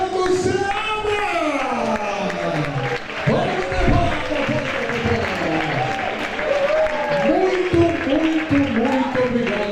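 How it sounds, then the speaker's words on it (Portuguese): A standing audience at a talk event applauds speaker Fernando Seabra with loud, sustained clapping and cheering through the whole stretch, with voices calling out over it. "todos em pé, uma salva de palmas para Fernando Seabra!"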